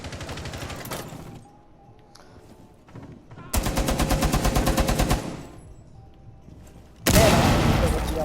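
Light machine gun fire in Rainbow Six Siege, long rapid bursts of sustained automatic shots, loud and close, with a quieter gap of scattered shots and gameplay noise between the bursts.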